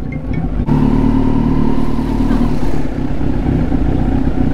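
A Kawasaki Z900 superbike engine starts with a sharp onset and then keeps up a loud, close, throaty rumble, with a brief dip in the revs midway.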